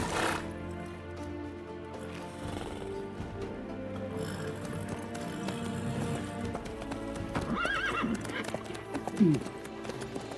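Horse in The Witcher 3: Wild Hunt video game, hooves clip-clopping steadily in a running rhythm with a whinny near the end, under game music and characters talking.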